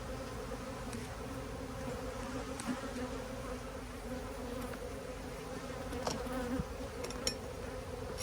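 A steady, dense hum of angry bees swarms around a hive near sand-mining work, continuous and close, with smoke being used on them and a few brief knocks over the constant drone.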